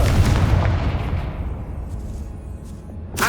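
Confringo fire spell explosion in the video game Hogwarts Legacy, a loud deep boom with a rolling rumbling tail that slowly fades, then a brief sharp burst at the end.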